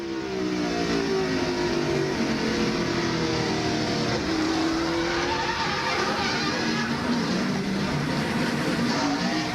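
Loud, continuous roar of NASCAR stock car V8 engines racing at the 1999 NAPA AutoCare 500, with revving, pitch sweeps as cars pass and faint tire skids, steady throughout with no talk.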